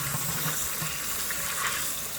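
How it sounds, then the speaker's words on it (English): Steady running water from a tap splashes over pinto beans as they are washed in hot water in a home kitchen, a continuous close rushing hiss with no talking. "it's just as simple a matter of washing your beans."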